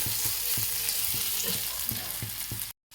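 Ginger pieces frying in oil in a pan for a fish fry, giving a steady crackling sizzle with light repeated stirring taps, close by; the sound cuts out briefly near the end.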